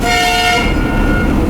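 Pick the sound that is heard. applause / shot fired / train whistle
train whistle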